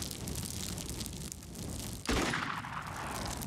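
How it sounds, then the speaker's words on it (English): A snap-fire gunshot in the alien-combat game Xenonauts gives one sudden loud crack and boom, then a lingering rumble over constant crackling battle noise. "she can snap fire and then maybe move a little more to get another shot off"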